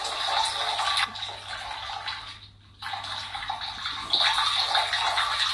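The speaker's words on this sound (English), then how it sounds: "he's peeing for England" A person urinating, a steady splashing water stream that breaks off briefly midway and then resumes, close and continuous.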